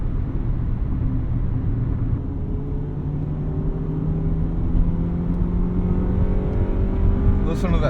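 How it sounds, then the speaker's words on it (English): A 1999 Honda Civic Si with a B16 engine pulling steadily while driving on back roads, a continuous engine drone with rising pitch as revs climb through the VTEC changeover, heard from inside the car. "Listen to that VTEC changeover."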